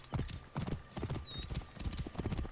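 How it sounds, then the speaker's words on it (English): A horse runs through town in Assassin's Creed Origins, its hooves beating a quick, steady clip-clop, fairly close, with a brief whinny. "Let's get the horse going."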